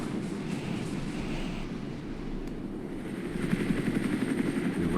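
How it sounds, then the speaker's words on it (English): Helicopters fly overhead during a military training exercise, producing a steady, loud rotor drone that grows heavier and more pulsing toward the end, with no talk. "But these helicopters."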